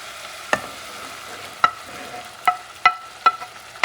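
A soup base of chickpeas and shrimp sizzles in a pot as tomato goes in, a soft frying hiss broken by several sharp clinks of a utensil against the pot at irregular intervals, with no talking.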